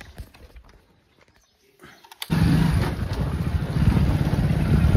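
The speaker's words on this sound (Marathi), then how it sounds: "गाडी आपण स्टार्ट करू" A motorbike is started and ridden off on the way to a fishing trip. Near-silence is broken by a sudden loud engine roar that holds steady and strong to the end.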